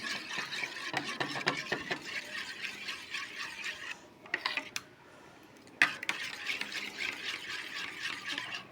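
Thick homemade curd gets mashed and stirred in a bowl, giving quiet scraping and clinking of utensil against vessel in uneven bursts, with a short pause partway through.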